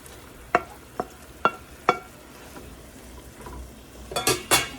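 Brinjal (eggplant) pieces stirred in a frying pan for an instant pickle: a few sharp spoon-against-pan scrapes spaced about half a second apart, then a quick cluster of clatters, over a faint low sizzle.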